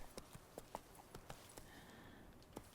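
Horse hooves clip-clop in a steady trotting rhythm in The Witcher 3, crisp and fairly close, with a faint tonal hum rising midway beneath the footfalls.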